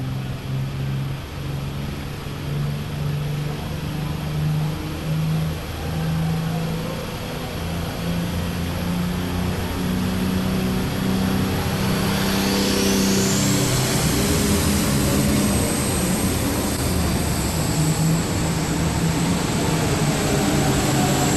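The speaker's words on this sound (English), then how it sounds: "here we come now on the line with Roger Early as he comes to the line with his tractor now" A pulling tractor's engine roars loud and sustained at a night tractor pull at a farm machinery show, a dense, steady drone that swells with a rising whine partway through.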